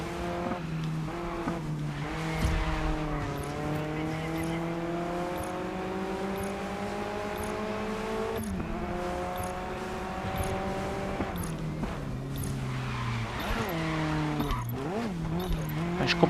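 Race cars in the video game GRID Legends roar with rising and falling engine tones through gear shifts, with tire squeal and skidding through corners, loud and continuous.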